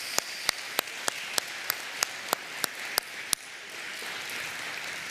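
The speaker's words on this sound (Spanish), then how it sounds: "Le da otro aplauso a Él." A church congregation applauds during a Palm Sunday service: a soft wash of clapping with a string of sharp, evenly spaced claps cutting through, which stop partway while the quieter patter continues.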